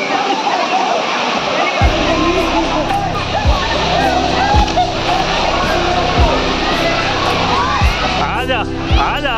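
A waterfall in Uttarakhand roars steadily while children swim and splash in the pool below. Constant broadband rushing water fills the scene, with lively children's voices and shouts over the top and a low periodic rumble underneath.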